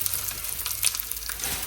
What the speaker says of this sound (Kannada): ಕರಿ ಲೀವ್ಸ್ ಹಾಕೋತಾ ಇದ್ದೀನಿ